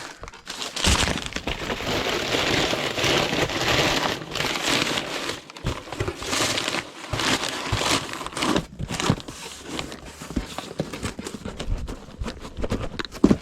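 Packing paper is crinkled and unwrapped by hand, producing dense, continuous rustling and crackling bursts, close and loud, with short pauses between handfuls.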